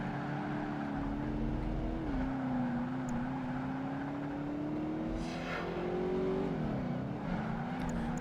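Race cars in Project Gotham Racing 2, including a Lotus and a Vauxhall, with one engine droning steadily as it climbs in pitch, dips at a gear change, then rises again, while other cars whine faintly past.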